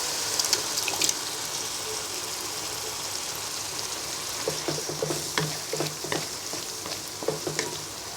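Onions fry lightly in a pan for a tomato hilsa gravy, a steady soft sizzle broken by small crackles and occasional clinks of stirring, fairly quiet and close, with no voices.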